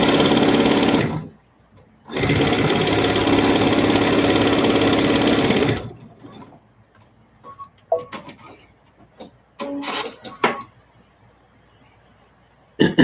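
A sewing machine runs in two long, steady bursts while stitching a quilt seam from jelly roll fabric strips, followed by quieter handling clicks and fabric rustles.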